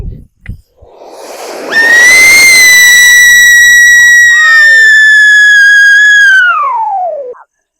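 A Sivakasi "mega siren" firecracker: after a few faint knocks and a hiss, a loud piercing whistle rises sharply, holds a high steady shriek for several seconds, then slides downward and cuts off.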